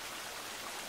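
Clear water in a stream runs through the woods of the survival game The Forest, a steady, soft wash of flowing water with no voice over it.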